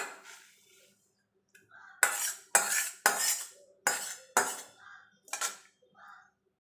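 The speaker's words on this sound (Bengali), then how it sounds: "কড়াইটা পরিষ্কার করে ধুয়ে নিয়ে চলে এসেছি" A wok is scrubbed and rinsed, giving a series of about seven loud, close metallic scrapes and clanks in irregular bursts, with quieter handling sounds between them.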